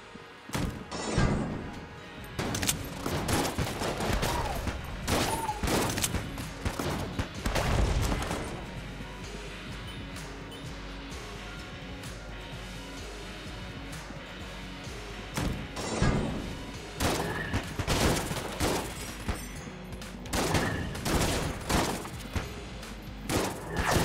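Gunfire in Enter the Gungeon aimed at the player, with dense bursts of shots and thuds over about 24 seconds, clustered early, mid and late, over a steady game backdrop.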